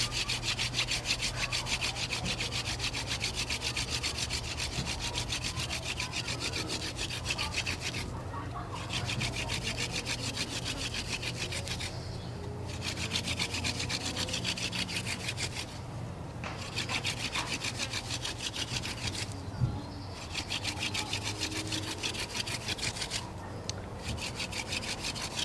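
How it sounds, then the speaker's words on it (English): A wooden spindle grinds against a fireboard in friction fire-making, a continuous rasping, rubbing drone in long strokes broken by four brief pauses, close and steady with no talking. "We're going to warm up the board. We're already getting smoke."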